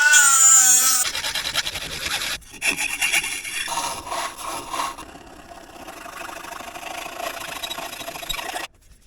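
A pirate sword is worked with a file on a workbench: repeated rasping metal strokes in uneven bursts, close and fairly loud, following a brief tonal sting at the start, with no voices.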